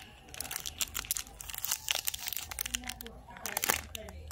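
Crinkling and tearing of plastic and paper packaging as an album is opened, close and busy rustles in bursts, with some soft talk in between.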